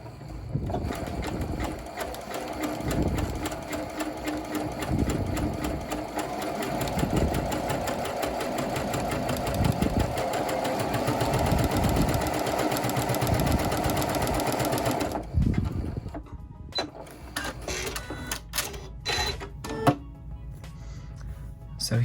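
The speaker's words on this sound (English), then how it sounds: "place it so that the zigzag will go over the edge of the fabric" A sewing machine runs a zigzag stitch along the raw edge of a fabric seam, a steady close mechanical whirr for about fifteen seconds, then stopping and giving way to softer handling clicks and bumps.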